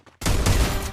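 Loud sniper rifle shot in a tournament video game, a single sharp blast after brief quiet, with a sustained ringing decay.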